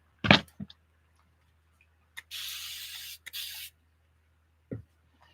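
Two short bursts of water from a hand spray bottle hit watercolor paper, each a close hiss about half a second long. Scattered taps and clicks come before and after.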